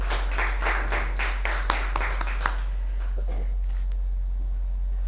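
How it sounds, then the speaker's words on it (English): A small Toastmasters meeting gives a thin round of applause, a few distinct claps over roughly three seconds against a steady electrical hum, then quiet. "give a big round of applause to Sai Singh"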